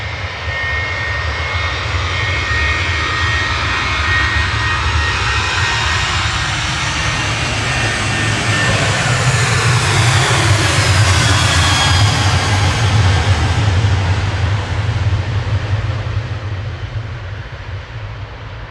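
A Ryanair jet airliner rolls for takeoff at Manchester Airport, its engine roar swelling to a loud, rushing peak and then easing as it passes into the distance.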